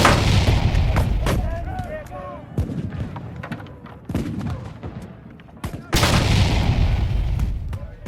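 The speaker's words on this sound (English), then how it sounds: "Vendôme's artillery fires." Artillery fire effect in a tabletop replay of a Ligny scenario from a Waterloo board game expansion: a run of loud booming cannon shots and gunfire bursts with rumbling tails, some sharp cracks, spread over the whole stretch.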